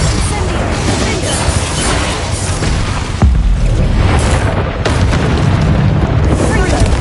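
Booming blasts from Bombarda and Confringo spells in the Hogwarts video game, loud and dense with repeated explosive impacts over a voice shouting spell names throughout.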